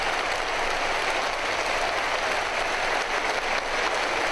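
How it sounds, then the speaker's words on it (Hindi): Sustained audience applause at a televised news ceremony in Pakistan, a dense, even wash of clapping filling the whole stretch at steady loudness with no voices on top. "भरपूर तालियां।"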